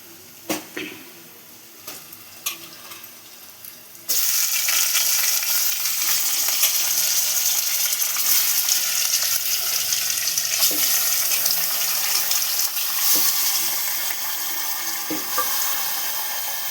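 Chicken pieces hit a pan of browned onions and set off a loud, steady sizzle that carries on without a break. A few clinks and taps come before the sizzle starts.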